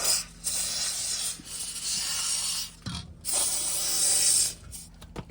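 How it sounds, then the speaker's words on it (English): Penetrating oil sprays from an aerosol can onto seized bolts under a Nissan Frontier, several short hissing bursts separated by brief pauses, close up with a few light metallic clicks and no talk. "I'm going to use penetrating oil on all the bolts we're going to be undoing."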